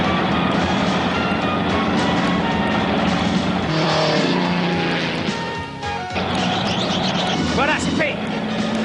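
A cartoon race car's engine roars continuously and loudly during an overtaking move on a hazardous road stretch, with crash-like effects and music layered in and voices talking over it.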